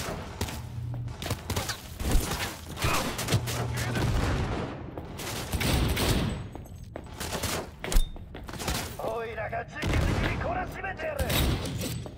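Gunfire in the video game Cyberpunk 2077, bursts of shots and heavy impacts over several seconds, loud and close, with irregular pauses and someone talking over parts of it.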